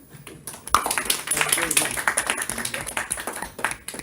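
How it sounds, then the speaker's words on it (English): An audience claps in a quick, uneven round welcoming a speaker onto the stage for a talk, close and moderately loud, with voices and cheers mixed in. "Please give me a round of applause for the woman you all came to see today, Miss Zooey, Sophia Pook."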